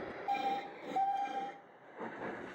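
A train sets off with a couple of short whistle or horn tones over a muffled rolling rumble that swells and fades, fairly close, with no voices.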